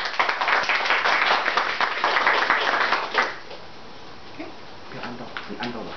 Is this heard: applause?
yes